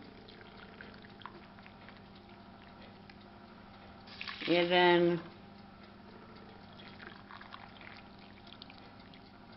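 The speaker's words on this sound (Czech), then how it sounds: "Teď ty tři šálky vařící vody." Boiling water is poured into a pot of rice in a Remoska electric pan in one brief, close gush of about a second, with quiet talk before and after.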